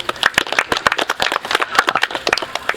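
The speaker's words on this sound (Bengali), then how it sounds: "সবাই তার জন্য করতালি" An audience at a reception ceremony for selected Bangladesh Army soldier recruits claps for a successful candidate, giving a short stretch of close, irregular, crisp handclaps from a small group.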